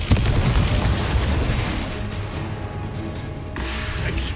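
A Confringo blasting spell in the Hogwarts Legacy video game sets off a loud, booming explosion that rolls into a long rumbling decay, with a second, smaller burst near the end.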